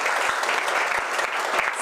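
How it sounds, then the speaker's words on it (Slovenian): Audience at a press conference and consortium signing giving a big round of applause, dense continuous clapping from many hands, close and loud throughout. "Dajmo en velik aplavz, da bo res zaživelo v prihodnje."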